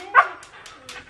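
A pet dog gives one short bark that is quickly followed by faint whimpering and soft yips at home, close by and brief.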